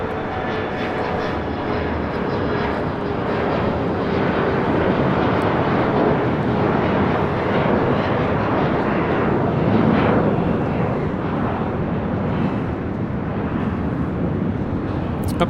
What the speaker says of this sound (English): we have Qantas Flight 95 about to touch down from Melbourne